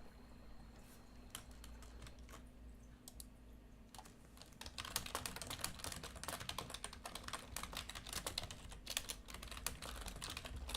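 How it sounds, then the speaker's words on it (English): Typing on a computer keyboard during a live Dota match broadcast: sparse, quiet keystrokes at first, then a rapid dense run of close clicky key presses over a faint low hum. "what I'm typing right now is that I am indeed not in a broadcaster slot inside the game"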